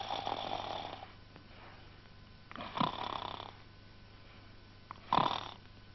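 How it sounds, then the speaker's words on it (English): A cartoon character curled up snug in his house snores in slow, rhythmic breaths, three drawn-out rasping snores spaced a couple of seconds apart, close and fairly quiet. "he began to snore"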